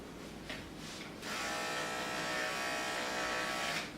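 An electric clipper trims a Labradoodle's fur, starting as a faint buzz with light clicks, then switching to a louder, steady close hum that runs to the end.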